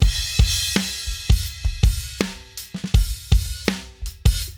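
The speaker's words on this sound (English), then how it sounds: "We end up with like a drum kit that sounds like this" A drum kit playing a steady beat with punchy kick and snare hits and ringing cymbals, close and fairly loud.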